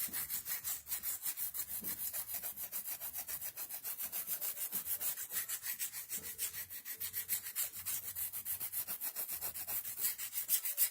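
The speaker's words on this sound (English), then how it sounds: "this is just, I think, 85 grit sandpaper. And I'm going to just go ahead and go on the edges here." Wood edges rubbed with coarse 85 grit sandpaper while making a briefcase, heard as a steady, close, rhythmic series of rasping back-and-forth strokes with no talking.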